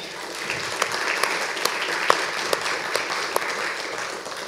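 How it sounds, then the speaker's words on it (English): Audience applause for Kent Oliver at a Civility Tennessee event, a steady wash of many hands clapping at moderate loudness, with a few sharper individual claps standing out throughout. "If you could give him a quick round of applause."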